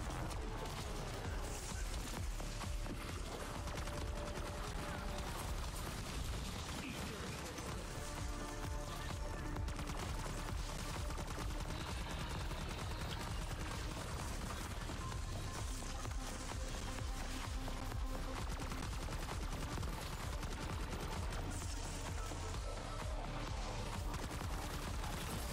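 Nonstop gunfire in Call of Duty Black Ops 6 Zombies on the Terminus map during a boss fight, dense rattling bursts and impacts running continuously, fairly faint overall with game noise layered throughout.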